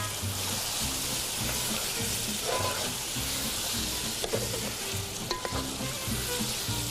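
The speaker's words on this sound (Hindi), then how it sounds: "बस इस मसाले की थोड़ी सी भुनाई होगी" Beef with masala frying in a pot gives a steady, loud sizzle throughout, with faint scrapes and clinks of stirring breaking through now and then.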